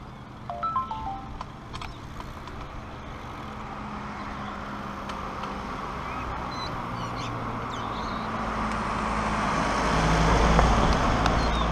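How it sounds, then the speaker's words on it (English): Ducks resting on a rural track in a South Australian village give a few quacks early on, followed by steady road and traffic noise that slowly grows louder, heard from a passing recumbent trike. "Seems the ducks are sleeping on our track."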